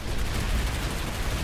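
Rocket rifle firing in the video game Planetside 2, a continuous dense roar of shots and explosions filling the short moment, loud and close with no voices.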